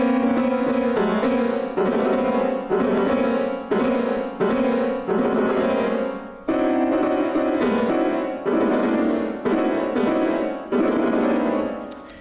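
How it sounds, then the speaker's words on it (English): Leo Ornstein's Danse Sauvage played on solo piano, dense fist-like tone clusters hammered in loud, regular repeated chords across the keyboard, sustained and percussive throughout with no talking. "the tone cluster. It's essentially what you get if you play the piano with your fists"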